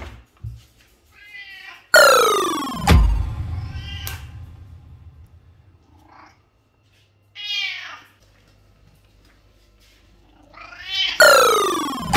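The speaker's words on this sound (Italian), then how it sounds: "nsiste nel dare da mangiare al gatto Decibel senza che lui emetta un singolo miagolio" A cat meows loudly and close by several times, with drawn-out cries separated by quiet gaps and faint low rumbling in between.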